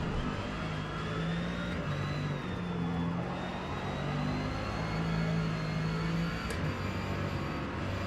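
Ferrari GT3 racing car in Forza Motorsport, its engine droning steadily at sustained revs with slight pitch shifts, loud and continuous throughout.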